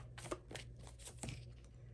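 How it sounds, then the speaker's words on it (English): Tarot cards being shuffled in a few quick, soft riffling bursts, close and faint over a low steady hum. "I kind of feel like I want to shuffle more of these and see what happens"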